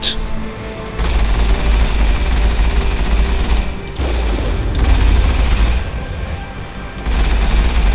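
Mass Effect combat gunfire is heard as dense, loud bursts of rapid shots and booming impacts. The volleys come in sustained waves broken by brief lulls, with no voices.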